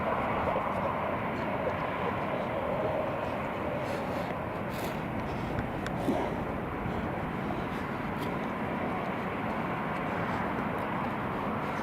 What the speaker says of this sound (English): TUI's just taxiing